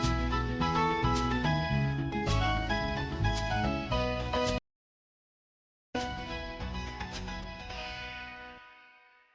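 An electrified version of the Simon & Garfunkel song Leaves That Are Green plays with full band instrumentation. It cuts out briefly partway through, then returns and fades out to a musical ending.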